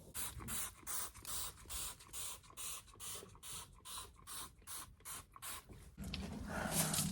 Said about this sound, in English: That is a nice sprayer.